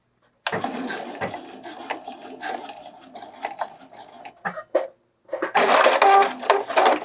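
A home sewing machine stitches a dart in bralette fabric, with a loud close whirring run, brief stops, a short backstitch burst, a pause, then another fast rattling stretch.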